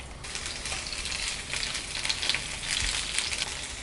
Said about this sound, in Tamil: இந்த வேக வச்சுருக்கிற பாவக்காயை நல்லா ஃப்ரை பண்ணி தனியாக எடுத்து வச்சுக்கலாம்